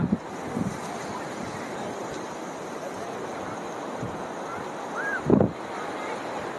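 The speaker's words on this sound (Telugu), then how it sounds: "గాలి అయితే చాలా ఎక్కువగా ఉందండి ఇక్కడ. చూడండి ఇసుక కూడా ఎలా వెళ్ళిపోతుందో." Strong wind roars and surf rushes without a break on Suryalanka beach near Bapatla, with heavy buffeting on the microphone. A brief voice sound rises near the end.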